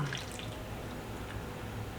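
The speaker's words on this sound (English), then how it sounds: "So just take my jar out and dump the water out." Water dumped from a glass canning jar into a sink gives a short splash and then soft trickling and dripping, faint and close.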